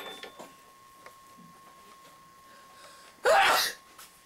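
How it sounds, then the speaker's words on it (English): A single loud, sharp human sneeze bursts out close by, brief and explosive, following a few faint rustles and clicks in an otherwise quiet room. "You sneezed"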